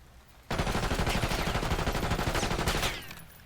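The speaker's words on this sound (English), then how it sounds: "Could you just shoot your whole magazine now?" A full magazine emptied in one continuous automatic burst in Black Ops 6, rapid evenly spaced shots for about two and a half seconds, loud and close, stopping abruptly before fading into quiet.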